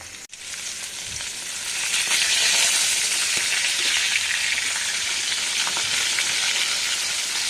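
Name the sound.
fish frying in a pan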